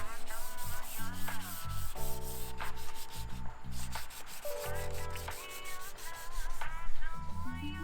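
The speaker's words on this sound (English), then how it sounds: "We're currently sanding down the bumper" Steady abrasive sanding of a plastic BMW M Sport car bumper, a rhythmic rubbing scrape, close and fairly loud, running continuously with slight changes in pace and pressure.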